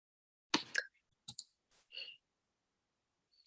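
A computer mouse clicks a few times while practising on a website: sparse, sharp, close clicks separated by quiet gaps, with no talk.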